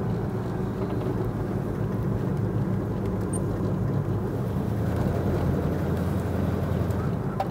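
A 1965 Ford Ranchero cruises at steady speed with a continuous low engine and road rumble mixed with wind noise, heard from inside the cab and holding an even level without any breaks.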